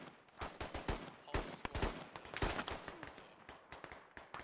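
Gunfire in the military shooter game Squad: sharp, irregular shots and short bursts, some near and loud and others more distant, fired in quick succession with no talk.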